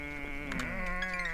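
Sheep bleating in the farming video game Wylde Flowers, one wavering, sustained bleat with a couple of brief overlapping calls, close and clear without speech.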